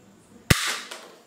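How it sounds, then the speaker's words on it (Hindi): A PUBG-style toy revolver loaded with soft bullets fires one sharp, close snap followed by a short rattling tail and a faint second click. "चलिए पहले मैंने रिवॉल्वर कर ले लिया है, अब इस पर फायर करते हैं।"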